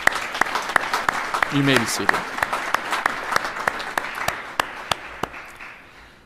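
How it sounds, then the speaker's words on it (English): Graduation audience applauding the college faculty, a dense wash of hand clapping with sharp individual claps standing out, steady for several seconds, while a voice speaks over it. "we'd like to express that dedication with a round of applause"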